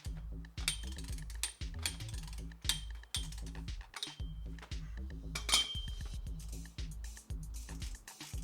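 A ratchet wrench loosening the crankshaft bolt on an engine, rapid metallic clicking pawl bursts repeating in quick strokes, close and fairly loud, with occasional clanks of tools between pulls.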